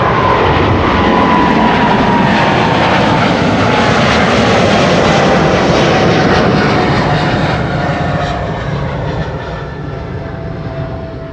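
A Boeing 787-9 airliner departs Amsterdam Schiphol with a loud, close, continuous jet roar that holds steady for several seconds before starting to fade as it pulls away.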